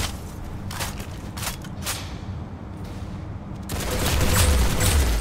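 Gunfire from the Roblox game Arsenal comes as bursts of rapid shots, followed by a louder, denser rumble near the end. No voices are present.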